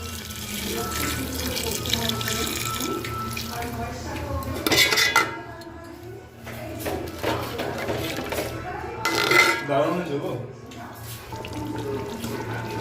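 Hot water pours into a pot of chicken curry, a continuous gushing and splashing stream with some pot clatter, while someone talks over it.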